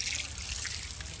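Cold water trickles steadily into a tank outdoors in the rain, a soft continuous close-up dribble with no voices.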